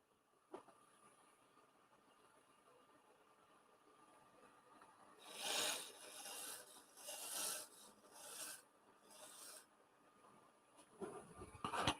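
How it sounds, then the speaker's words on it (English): A woodturning tool shear scrapes a spinning face-grain wood piece on a lathe, several raspy scraping bursts of a second or so each against a quiet motor hum, fairly close. "I'm going to shear scrape around this corner."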